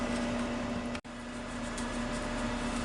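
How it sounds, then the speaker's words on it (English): A steady, even mechanical hum with a low electrical drone from a running microwave oven, briefly cutting out for an instant before resuming at the same level. "now we're going to take it over here to the microwave and see if we can get it melted down"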